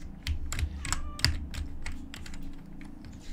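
Computer keyboard keys tapped in quick irregular clusters while playing Undertale on a PC, close and crisp clicks with short gaps, over a low steady hum and no speech.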